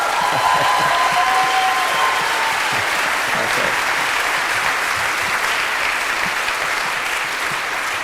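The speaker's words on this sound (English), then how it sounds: "Now, let's hear the same applause for all of our panelists" Sustained applause from a debate audience on rent control in Seattle, a thick, even roar of many clapping hands that holds at constant loudness throughout.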